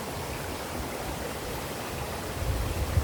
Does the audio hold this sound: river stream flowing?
yes